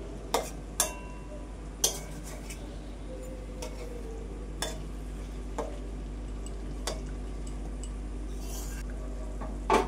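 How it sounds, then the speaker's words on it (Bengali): Hilsa fish pieces being mixed by hand with a little mustard oil in a bowl, giving soft wet stirring and a few sharp clinks of utensil against dish, quiet and intermittent over a steady hum. "আর দিয়ে দিলাম সামান্য একটু সর্ষের তেল। ভালোভাবে আবার সব কিছু মাখিয়ে নেব।"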